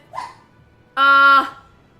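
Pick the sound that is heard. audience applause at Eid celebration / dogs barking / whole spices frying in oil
dogs barking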